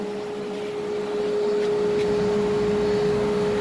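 A household vacuum cleaner runs steadily and loudly close by, a constant droning whine with a sustained tonal hum that swells slightly after the first second and holds.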